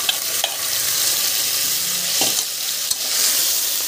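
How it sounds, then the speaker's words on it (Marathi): Marinated chicken tipped onto browned onions in a pan, sizzling loudly and continuously with a few sharp clatters of stirring, close and with no talking. "आता आपण हे जे मॅरिनेशन साठी ठेवलेलं चिकन आहे ना, ते पूर्ण घालून घेऊया"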